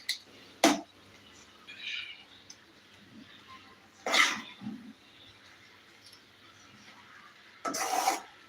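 Three separate harsh coughs, each short and fairly close, spaced several seconds apart over a quiet background.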